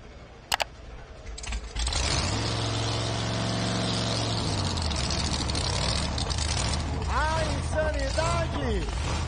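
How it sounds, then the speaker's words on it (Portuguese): A V8 drag racing engine starts and roars loudly at a steady high rev, a deep continuous drone close by, with a voice talking over it near the end. "O motor V8 do Mário."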